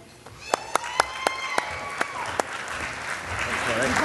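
Audience at a regional chamber of commerce network meeting clapping, a few sharp individual claps building into rising applause, with voices heard over it.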